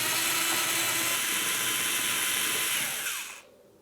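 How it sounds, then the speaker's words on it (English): A power tool whirs steadily to back out the 8mm-headed screws holding the lift gate handle on a 2002-2005 Ford Explorer, loud and continuous, then cutting off abruptly near the end. "remove this handle by removing two 8mm headed screws"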